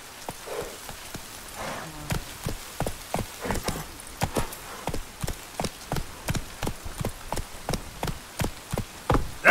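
Roach, the horse in The Witcher 3, trots with steady, evenly spaced hoof clip-clops that ring close and clear over a soft wash of rain.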